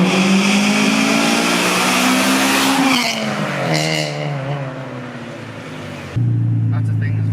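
A Honda Civic Type R EK9 engine revs loudly with a rising, changing pitch while driving, with tyre noise and a sudden jump in engine note near the end; voices are present underneath.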